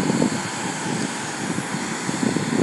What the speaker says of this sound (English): This is the last American Airlines of the day. Boeing 737-800.